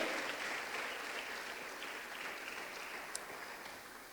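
Congregation clapping in a church service, a dense steady wash of many hands applauding together at moderate distance, holding level throughout without voices on top.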